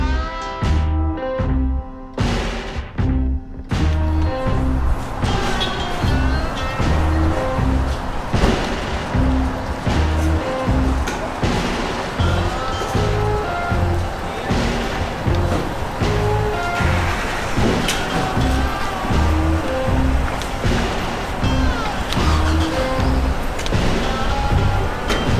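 Steady loud road and wind rumble inside a 2020 Chevy Trail Boss pickup cruising on a highway without a trailer, a continuous broadband roar with no speech.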